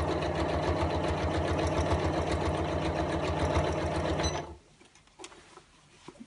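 A sewing machine stitches over bulky fabric seams while a ScanNCut dust cover is being made, whirring steadily and loudly up close for about four seconds before it stops, leaving faint handling noises.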